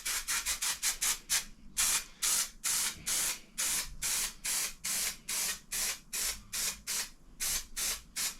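Spray adhesive sprayed onto car headlining material, a long run of short, sharp hissing bursts, close and loud, repeating in a fairly even rhythm with brief gaps between them.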